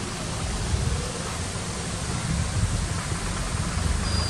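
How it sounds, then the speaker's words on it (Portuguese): A waterfall in Caxambu, Minas Gerais, gives off a steady, broad rushing roar that fills the scene evenly from start to finish, with no talking. "aqui é a única cachoeira que tem aqui em Caxambu"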